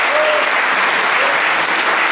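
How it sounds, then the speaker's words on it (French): Loud, dense applause from a crowd at the FLIP 2015 games festival awards ceremony in Parthenay, a steady wash of clapping for about two seconds. "Applaudissements, mesdames et messieurs."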